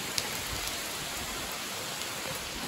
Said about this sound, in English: so it is currently raining